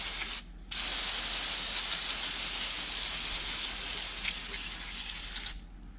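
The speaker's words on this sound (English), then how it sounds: "I just use a little bit of this Comp Cam's valve train assembly spray." Comp Cams valve train assembly spray from an aerosol can coating parts of a turbo LS engine build, a steady close hiss lasting about five seconds with no talk.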